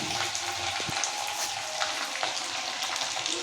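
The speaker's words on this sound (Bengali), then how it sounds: "এরপরে আমরা যোগ করে দিচ্ছি তিনশো গ্রাম মতো টমেটো কুচি" About three hundred grams of chopped tomatoes fry in a pan for a soybean masala curry, giving a continuous close sizzle with occasional stirring taps; no one speaks.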